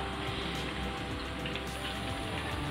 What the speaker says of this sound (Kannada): ಇಲ್ಲಿ ಮಳೆನೂ ಜೋರು ಬರ್ತಾಯಿದೆಪ್ಪ